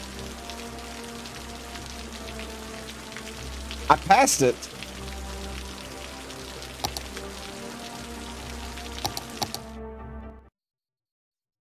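Steady rain patters in the city-building game Cities: Skylines, a continuous quiet hiss with mouse clicks and a brief spoken remark partway through before it cuts to silence.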